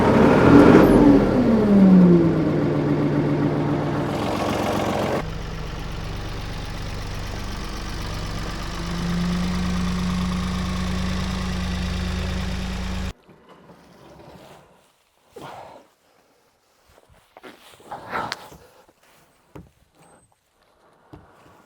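A diesel engine with freshly bled fuel filters roars and revs loudly, then settles into a steady drone before cutting off, leaving quiet gaps with scattered clicks and knocks.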